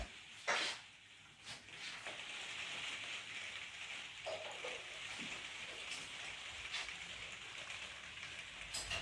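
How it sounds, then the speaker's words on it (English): Steady rain falls outdoors on a grey day, a soft continuous hiss with scattered drip and tap sounds, fairly faint and close, with a few brief louder knocks. "So, rainy day out here today."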